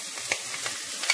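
Chopped onion and green onion hit hot oil in a pan and sizzle with a soft, steady crackle and a few brief louder pops over one short moment.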